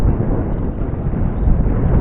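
Wind buffets the microphone on an early-morning sea fishing trip by boat, producing a loud, continuous low rumble that roars steadily without a break and with no voices.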